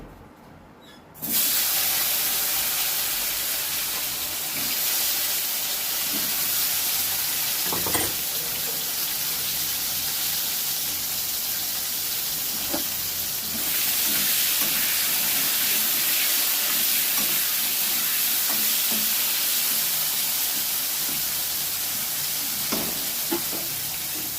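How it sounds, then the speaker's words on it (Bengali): Cut taro pieces drop into hot oil and burst into a loud, bright sizzle that holds steady and close for the rest of the clip, with occasional pops and stirring clicks. "এই যে কচুগুলো কেটে দিয়েছে, তো আমি এগুলোকে ভাজবো। তেল গরম হয়ে গেছে, তেলে দিয়ে দেবো।"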